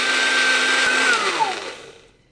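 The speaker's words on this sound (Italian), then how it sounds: "Ok, frulliamo." An electric blender whirs loudly while blending muffin ingredients, a steady high whine that winds down and cuts off near the end, with no talk.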